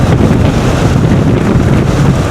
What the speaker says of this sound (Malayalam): അപ്പോൾ കാറ്റുണ്ടല്ലോ, അടിപൊളി കാറ്റ്